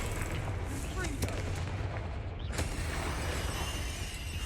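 A Confringo explosive fire spell goes off in the Hogwarts Legacy video game, several booming blasts and cracks ringing over continuous battle noise, loud and close.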